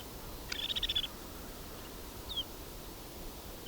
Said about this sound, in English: So I have 5, 10, 15, 20, 25, 30, 35, 43 snow buntings on a wire here.